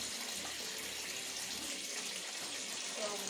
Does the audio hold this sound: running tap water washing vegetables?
yes